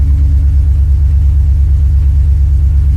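A 2009 GMC Sierra with a stock 5.3 V8 idles just after starting, a loud, steady, close low rumble with no revving and no talk.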